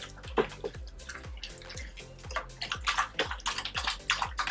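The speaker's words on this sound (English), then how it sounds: "once they're done eating, they get some water, wet their tongue a little bit" Golden retrievers lap water from their bowls, giving a quick run of wet, splashy tongue strokes in an irregular rhythm, close and fairly loud with no talk over them.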